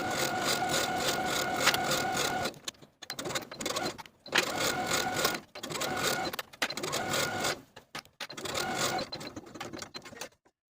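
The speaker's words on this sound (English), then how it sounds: "I'm going to use a blind hem stitch to stitch from side seam to side seam" A sewing machine runs a blind hem stitch along the hem of a women's suit jacket in four or five rapid mechanical bursts, each a few seconds long and separated by brief pauses.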